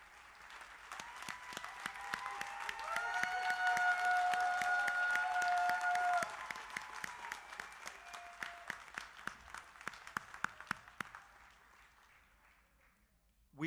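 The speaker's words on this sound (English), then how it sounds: "give them a big round of applause and thank them for all they do" Audience at a Covenant House graduation ceremony applauding departing teachers, a dense round of clapping that swells, holds for several seconds, then thins into scattered claps and fades out.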